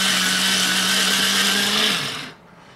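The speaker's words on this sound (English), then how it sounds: "So I'm going to go ahead and continue and get this fully sharpened to see what kind of tip we have." Pemenol Eagle electric pencil sharpener grinding a pencil, a close, loud steady motor whine with a constant hum that winds down and stops near the end.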